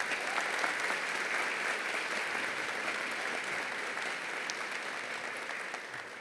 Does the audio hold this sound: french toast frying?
no